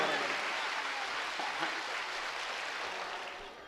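A crowd at a Hindi comedy poetry gathering applauds, a broad, even patter of many hands clapping at a distance, holding steady before tapering slightly at the end, with some voices underneath.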